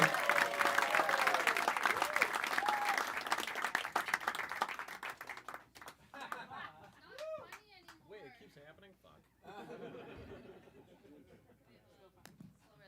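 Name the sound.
audience applause and clapping at a comedy show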